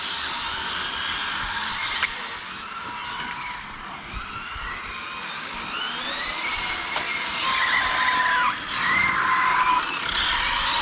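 An FTX Superforza RC car brakes and skids, its whining motor sweeping up and down in pitch, with sharp tire squeals and scrabbling bursts growing louder toward the end, no talking.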